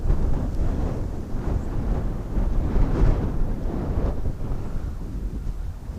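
Strong wind buffets the microphone beside a near-frozen river during trout fishing, a continuous loud rumbling roar with gusty surges throughout and no talk.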